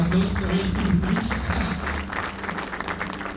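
Audience applause at a corporate partnership event, steady clapping from a crowd that holds at a fairly even level throughout, with a low hum and faint murmur underneath.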